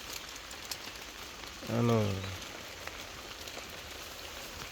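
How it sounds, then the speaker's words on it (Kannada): Steady rain falls outdoors near someone sheltering under an umbrella, a constant soft hiss of drops throughout, with one short spoken word in the middle. "ಈಗ ಮಳೆ ಬರ್ತಲೇ ಇದೆ."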